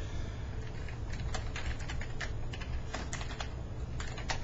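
Rapid typing on a new, washable-style computer keyboard carries on steadily, the close key clicks clattering quickly and unevenly over a low background hum.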